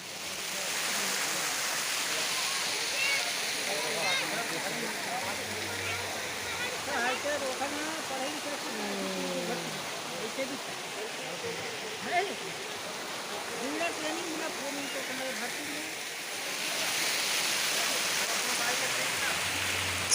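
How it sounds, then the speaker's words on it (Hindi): Bhoramdev waterfall pouring in a steady broadband rush that fills the whole stretch, with people talking and calling faintly underneath the constant roar. "ए हरे भोरम देव के झरना"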